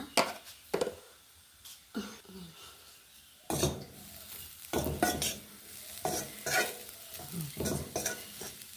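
Radish and chili are stir-roasted in a pan, with irregular bursts of a spatula scraping and tossing over a soft sizzle, busier in the second half.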